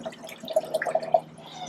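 Water is poured into a Structured Waterbearer unit, heard as close, gentle gurgles and drips in an uneven run that fades near the end.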